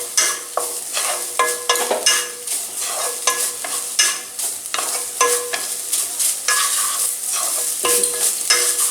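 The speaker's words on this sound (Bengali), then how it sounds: "ভালো করে মিশ্রণটা মিশিয়ে নিয়ে নিভু আছে 5 মিনিট মতো এটাকে পাক দিতে হবে" A spoon scrapes and stirs a sugary coconut mixture in a pan over low heat, sharp irregular scrapes recurring every half second or so against a soft sizzle, close and clear.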